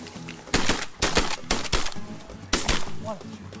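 Shotgun blasts at ducks during a waterfowl hunt, about five sharp, loud reports in an irregular volley, with hunters' voices around them.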